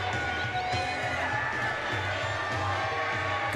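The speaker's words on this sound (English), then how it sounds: "Good rowdy crowd tonight." A rowdy ice hockey crowd roars and cheers steadily throughout, a dense continuous wash of voices and shouts filling a minor-league arena during a Danville Dashers versus Port Huron Prowlers game.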